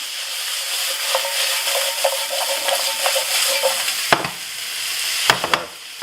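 Raw broccoli, ginger and garlic frying in a pan, a steady loud sizzle with repeated clicks and scrapes of stirring, then a few sharper knocks near the end.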